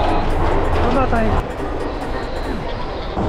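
A red express train in Japan rumbles and rattles steadily nearby while a person talks over the rolling noise.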